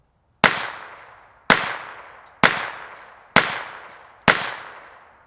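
Suppressed .22 pistol, a Sig 322 with a Hansen Brothers Mod F4 suppressor, firing Federal ammunition: five crisp, loud cracks at a steady pace about a second apart, each trailing off quickly into quiet.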